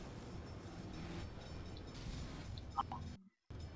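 A passenger train in the driving game The Crew, lettered American Rail with a blue stripe, rumbles steadily past at low speed as a continuous rolling drone, broken by a short dropout near the end.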